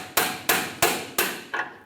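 Five sharp metal-on-metal hammer blows drive a pry bar into the rusted outer tie rod sleeve of a Ford E-350 Super Duty, struck at a steady rhythm about a third of a second apart, loud and close, with no talk.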